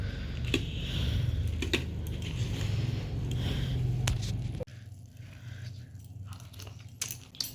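Someone crunching on puffed rice (muri) with tea at home, with repeated close, crisp bites and chewing over a steady low background hum that drops away partway through.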